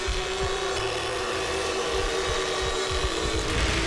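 In The Texas Chain Saw Massacre video game, a chainsaw saws into a victim with a loud, continuous buzzing engine drone, steady and close throughout.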